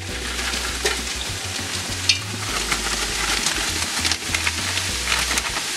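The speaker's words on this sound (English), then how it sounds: "I'm going to go on and put these carrots in there right now because they need to soften also." Carrots going into a pot for chicken pot pie filling, cooking with a steady sizzle and stirring scrapes, loud and close, with no voices.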